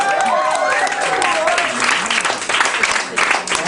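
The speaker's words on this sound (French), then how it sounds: "on va pouvoir nous applaudir" Applause from a live stage-show audience, steady and loud throughout, with cheering voices and a person talking over the clapping.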